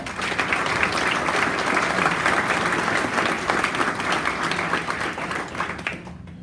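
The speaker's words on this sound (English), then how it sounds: "Let's give it one more round of applause" Sustained applause from an audience at an agency awards ceremony, many hands clapping steadily and fairly loud before tapering off abruptly at the end.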